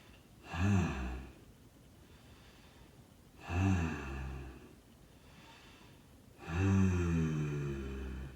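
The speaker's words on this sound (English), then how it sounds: "we're going to do 3 grunts" Three deep vocal grunts during a voicework toning exercise, each spaced a few seconds apart with breathy pauses between, the last one held noticeably longer than the first two.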